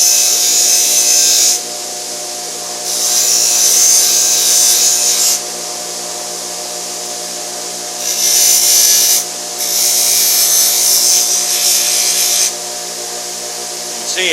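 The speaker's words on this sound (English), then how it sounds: "That's where my buffing tool comes in. That's a buffer. This is a brass wheel." Brass wheel on a buffing tool grinding down plastic tailgate trim on a Ford Ranger, loud high whirring bursts in several passes separated by short pauses, close up.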